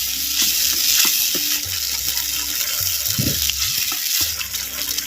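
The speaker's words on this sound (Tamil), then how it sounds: "அப்படியே நல்லா கிண்டி விடுறோம்" Steady sizzling in a pot as sardine fish curry with yogurt is stirred, with wet stirring sounds and occasional spoon scrapes, close up, no talking.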